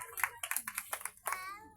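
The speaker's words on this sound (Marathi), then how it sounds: "अभिनंदन, जोरदार टाळ्या." A brief burst of hand clapping rises at a village Satyanarayan puja gathering as a prize winner is congratulated, with voices and a child's speech mixed in.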